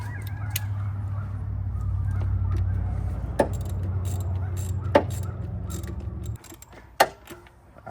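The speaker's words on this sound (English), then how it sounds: "So I'm gonna go ahead and tighten this bolt." Ratchet clicking in a few sharp, separate ticks while a bolt is tightened on an S650 Mustang, set over a steady low mechanical hum that drops away near the end.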